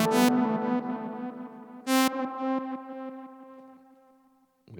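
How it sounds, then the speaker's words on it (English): Two plucked tones ring out through a Roland RE-202 tape echo unit with reverb, repeating echoes trailing off and fading, followed by a brief noise at the end. "This is just the 202."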